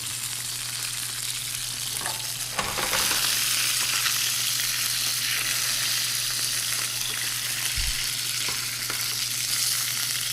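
Food browns in a frying pan with a steady, close, loud sizzle and crackle that continues throughout, with no talking.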